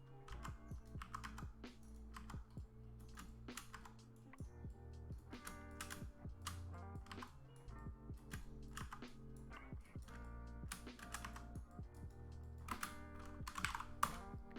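Steady computer keyboard typing and shortcut presses while working in Blender, crisp clustered clicks in irregular bursts, close and fairly quiet.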